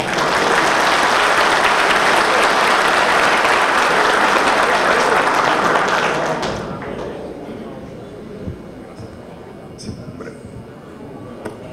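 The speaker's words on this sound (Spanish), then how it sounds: "José del Carmen Montero, a quien llamamos con un fuerte aplauso." Loud, dense applause from an audience at a political party gathering in the Dominican Republic welcomes a provincial president to speak; it fills the first six seconds, then fades to scattered claps and thumps.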